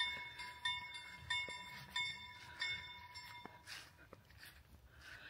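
A train passes at a moderate distance with rhythmic wheel clatter over rail joints and brief squeals, the rumble rising and fading under quiet ambient noise.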